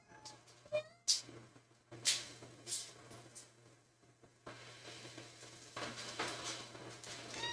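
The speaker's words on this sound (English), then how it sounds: "Sorry, my kitty cat pausing to say hello." A domestic cat meows softly indoors, with a few faint, short calls spaced through a quiet room and some scattered light background noise.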